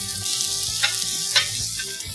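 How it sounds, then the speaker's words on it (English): Sausage sautéing in a pan with onions, garlic and peppers gives a steady, close, loud sizzle with a couple of brief stirring scrapes, and nobody talks. "I'm going to saute our sausage right with the onions, the garlic, and the peppers."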